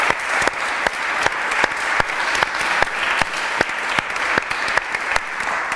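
Sharp, rhythmic clapping at a political round table in Vitoria-Gasteiz, with a few loud hand claps over a softer bed of crowd applause, steady and close throughout.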